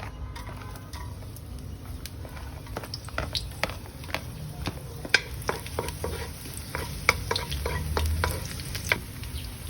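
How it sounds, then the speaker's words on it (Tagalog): Garlic sautés in a pan for ginisang Baguio beans with carrots and pork, a soft close sizzle broken by irregular scraping and clicking stirring strokes, fairly quiet, with no voices. "saute the garlic"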